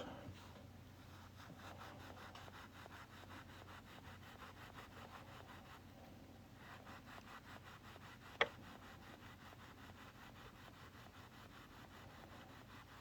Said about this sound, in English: Clean up that cut edge with some steel wool.